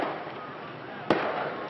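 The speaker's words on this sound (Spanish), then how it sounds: "en la frontera del Espigón se escuchan gritos y disparos" A single sharp gunshot at the Tarajal border breakwater in Ceuta near dawn, one distant crack cutting briefly through a steady background murmur.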